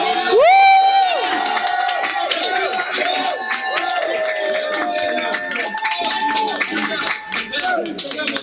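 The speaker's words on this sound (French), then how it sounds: "Tu peux pousser des cris de joie." A church congregation at a Friday prayer service shouting and cheering with joy, loud whoops, cries and clapping from many voices, continuous and close throughout.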